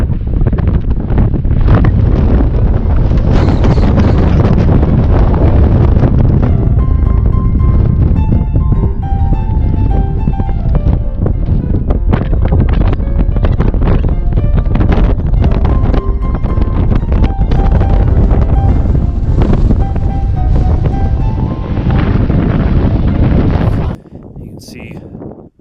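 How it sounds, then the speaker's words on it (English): Strong gusts buffet the microphone on the summit of Mt. Belford, a loud, continuous roar of wind noise that drops off sharply near the end. "It's pretty windy up here."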